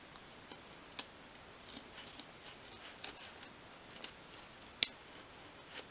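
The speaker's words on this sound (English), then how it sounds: "And you're just using your craft knife like a pencil." A craft knife cuts little by little through thin wood for a 1/12th scale display cabinet. Faint, sparse ticks and small scratchy clicks come at irregular intervals over a quiet background.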